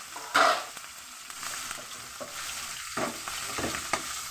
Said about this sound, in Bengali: একটু নেড়ে নিলাম লঙ্কাটাকে